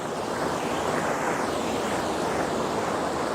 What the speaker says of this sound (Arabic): وهذه المياه تصب هنا